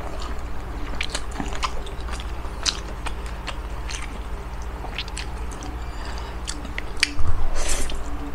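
Close, steady chewing and biting of soft pancit canton noodles, with wet squishy mouth sounds continuing alone throughout.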